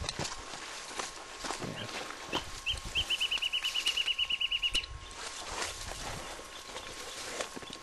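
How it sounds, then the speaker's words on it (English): Outdoors, a bird repeats a quick run of bright chirps for a couple of seconds, fairly faint against rustling and footstep-like ground noise. "Two birds are talking back and forth."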